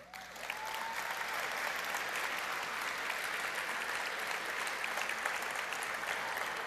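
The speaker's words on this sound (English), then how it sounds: "Thank you for that applause." Sustained applause from a large crowd at a Federation of Canadian Municipalities address by Prime Minister Justin Trudeau, steady and dense clapping that continues without a break.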